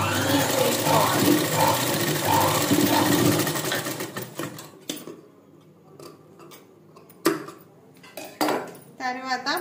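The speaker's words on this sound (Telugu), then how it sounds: "ఇలా నార్మల్ పాదంతోనే స్టిచ్ వేస్తున్నాను." A sewing machine with a normal presser foot stitching hand piping runs in a steady close whir for about four seconds, then stops, followed by scattered fabric handling clicks and taps.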